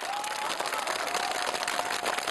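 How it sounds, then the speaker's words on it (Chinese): Studio audience applause at a televised Chinese opera show as a singer is welcomed on stage, a fairly quiet, even patter of clapping with a faint sustained tone beneath it. "用热烈的掌声有请她上场。"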